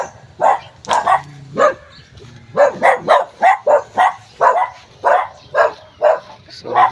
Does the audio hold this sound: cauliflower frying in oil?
no